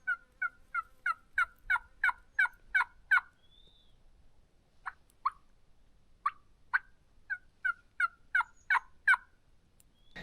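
Distant wild turkeys gobbling in repeated rapid, rattling bursts, several volleys spread across a quiet outdoor evening stretch in Mexico with no voices.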